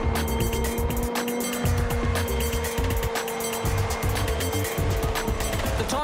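A hovercraft driven hard on a track at Flying Fish, Queensland, its engine a loud, steady drone with a constant tonal hum and rough low-end roar that surges slightly as throttle is applied, close and continuous throughout.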